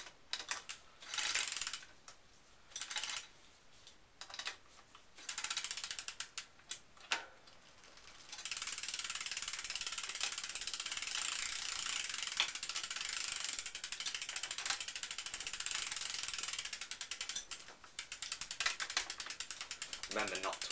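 Ratchet wrench tightening a sealed bearing cartridge bottom bracket on a bicycle, with short bursts of close clicking that turn into a long continuous run of rapid ratchet clicks.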